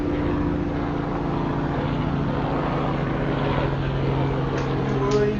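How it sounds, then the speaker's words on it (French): A helicopter passes over a daytime campfire with a continuous droning engine and rotor hum, steady and fairly loud throughout. "Ouais, il y a un bon hélico."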